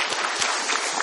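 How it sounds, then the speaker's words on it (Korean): A church congregation claps briefly for the accompanist, a short burst of crowd applause with a few soft thumps, fairly quiet and without voices. "우리 집사님께 한번 박수할까요?"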